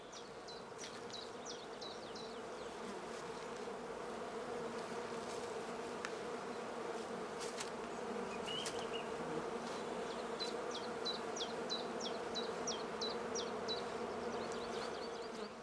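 Honey bees buzz continuously in a dense, steady hum around traditional straw skep hives in spring, with bird chirps faintly in the background; no talking.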